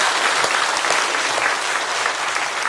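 A church congregation claps together in loud, sustained applause during a worship service, a dense wash of hand claps that holds steady from start to finish with no talking over it.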